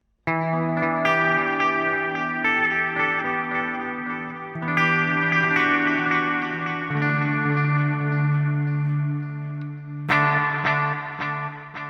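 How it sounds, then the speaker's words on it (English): Electric guitar run through a Big Sky reverb pedal with pronounced delay and bright reverb, sustained chords and notes blooming into long washy tails with fresh strikes every few seconds, loud and alone. "you're hearing really pronounced delays. You're hearing a lot of bright reverb in the mix"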